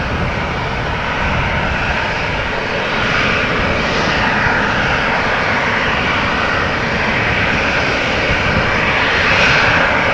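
A Transavia Airbus A321neo jet at Amsterdam Schiphol Airport gives off a loud, steady engine roar that holds unbroken and close for the whole stretch, with no voices over it.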